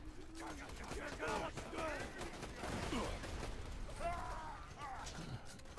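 Gunfire rattles through a Borderlands 2 firefight in steady, clattering bursts of mechanical shots. Someone talks over the shooting throughout.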